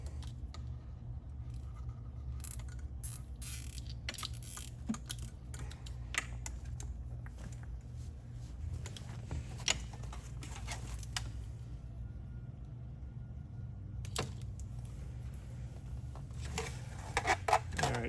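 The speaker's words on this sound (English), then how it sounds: "you can go ahead and zip tie this up and get it out of your way" A zip tie is ratcheted tight around wiring during a Jeep JK dash install, giving a long run of rapid, close clicking and ticking with no talking.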